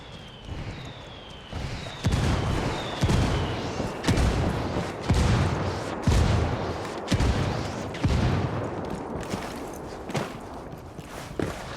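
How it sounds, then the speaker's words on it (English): An indirect-fire artillery barrage in Ghost Recon Wildlands: a run of heavy booming impacts lands roughly once a second, each a loud, sharp blast with a rumbling tail, preceded by faint descending whistles. "I'm calling for indirect fire."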